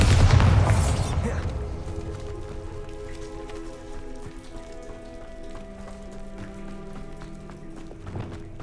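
A Bombarda spell explosion in Hogwarts Legacy: a loud, broad burst at the start that decays into a lingering rumble with game ambience, and a softer impact near the end.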